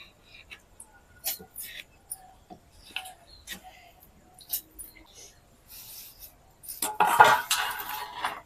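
Dry rice poured and scooped into a mixer grinder jar, with scattered grain rattles and light clinks against the jar and a louder rush of pouring near the end.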